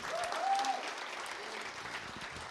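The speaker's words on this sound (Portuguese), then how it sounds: "Pode aplaudir o Senhor." A church congregation applauds steadily through a dense, continuous clatter of clapping hands, heard from within the room at moderate volume.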